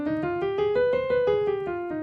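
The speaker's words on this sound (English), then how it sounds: "like this one is called the harmonic minor." A harmonic minor scale played on an instrument, with around nine evenly spaced plucked notes rising and falling in quick succession. The notes are close and clear, with nobody speaking.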